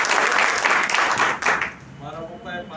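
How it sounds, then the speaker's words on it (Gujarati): An audience at a business training session bursts into loud applause, dense clapping that fades after a couple of seconds, with voices mixed in. "જોરદાર તાળી"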